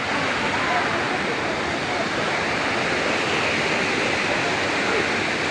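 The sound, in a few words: strong rushing waterfall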